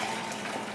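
Water gushes in a short, steady stream into a home brew fermenter holding wort, a close, continuous pouring hiss.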